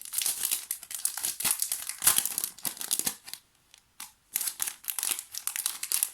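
Cardboard and plastic packaging of a box from an Artemio advent calendar being opened, with close, busy crinkling and tearing in bursts and a brief pause partway through.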